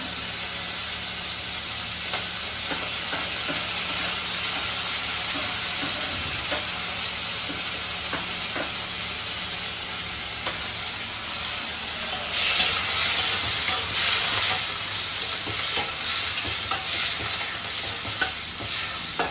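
Onions and chillies sizzle in hot oil in a kadai, a steady crackling fry with intermittent stirring scrapes, swelling briefly louder near the end as more steam hisses up.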